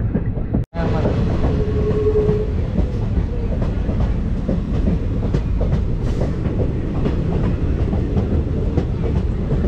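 A diesel train with two Alco diesel engines runs steadily along the rails at average speed, with a loud, close rumble and a continuous clatter of wheels. No one speaks.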